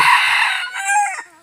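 A hen gives a short, close, loud call, a drawn-out cackling cluck that trails off within a second or so.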